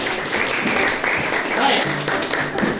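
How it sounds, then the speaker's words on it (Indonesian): Students in a school science class clap for a classmate. The applause comes as a close, fairly loud burst of scattered claps, with some chatter mixed in. "Tepuk tangan dulu."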